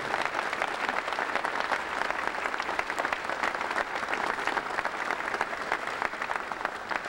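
A crowd applauds at a political rally where a governor is being endorsed by the NRA, with dense, sustained clapping from many hands holding at an even level throughout.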